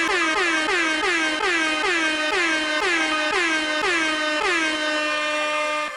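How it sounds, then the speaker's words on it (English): Rapid series of loud air horn blasts, about nine or ten short repeated hoots in quick succession, ending in one longer sustained blare, with no talking. "Give me an abundance of air horns on the way in."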